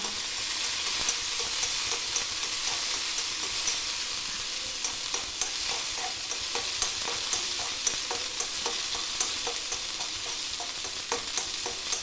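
Cashews and raisins frying in hot ghee give a steady, dense sizzle with faint stirring clicks scattered through it, close and even from start to finish.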